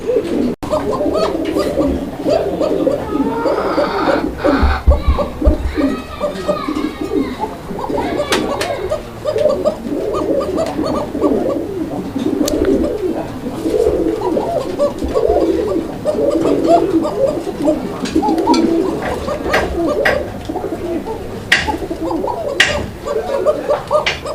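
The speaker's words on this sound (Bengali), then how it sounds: "দর্শক আপনারা দেখতে পাচ্ছেন এখানে চমৎকার আরও এক জোড়া কবুতর এটা কোকা কবুতর একটা জোড়া" Several pigeons cooing at a bird market, repeated soft throaty coos close by over a busy background of other birds and scattered chatter.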